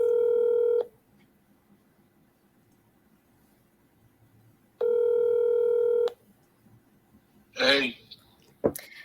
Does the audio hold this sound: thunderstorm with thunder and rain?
no